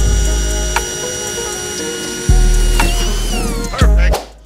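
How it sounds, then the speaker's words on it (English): Power drill boring through a carbon fiber car hood to fit hood pins, loud whirring bursts with a sharp start near the middle and another short burst toward the end, close by and without talk. "You drill through"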